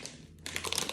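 Crinkly rustling and sticky peeling of tape against fabric, close up, in short bursts after a brief pause.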